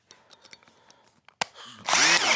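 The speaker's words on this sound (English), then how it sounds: "Change up my drill bit here. Put my Phillips head on, tight." A power drill with a Phillips bit drives stainless steel screws into trailer bunk boards, with a few light clicks and taps before a short burst and then a loud, sustained whirring run close by.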